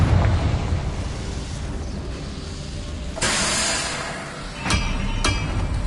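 Confringo blasting spell in Hogwarts Legacy erupting into a loud, rumbling explosion, followed by sharp crackling bursts and a couple of quick bright pops, with no voices over it.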